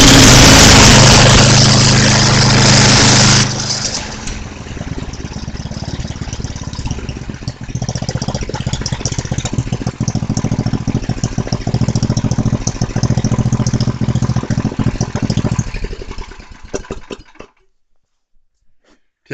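A Tecumseh-powered MTD snowthrower engine, just fitted with a cheap replacement carburetor, runs steadily close by with a loud, buzzing small-engine drone and faint rattles before it cuts out and goes quiet near the end.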